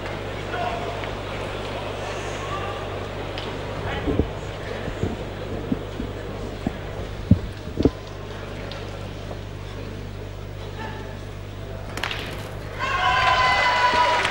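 Metal pétanque boules strike each other during a 1994 world championship final, several sharp clacks and thuds scattered over a few seconds under French commentary and a steady background hum.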